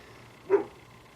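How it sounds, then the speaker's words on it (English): A dog named Scarlett lets out a single short bark near a driveway during a car oil change, brief and fairly close against a quiet background. "Scarlett, what are you barking at?"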